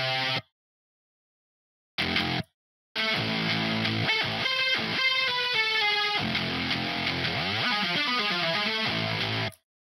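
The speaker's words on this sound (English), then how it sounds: "This goes through a distortion and then it goes to a VST guitar amp." A Serum synth patch fed through distortion and a VST guitar amp for breakcore metal, bursts of harsh, buzzing tones with short silences, then a sustained gritty passage of stuttering and sweeping pitched notes, no voices.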